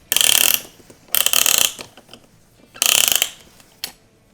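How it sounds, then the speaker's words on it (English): Piston ring clamp ratcheting tight around a piston on a Suzuki Intruder VS1400 motorcycle engine: bursts of rapid close metallic clicking, three longer runs and a short final one, with pauses between. "I'm going to take my ring clamp, I'm going to place it over the top of the piston"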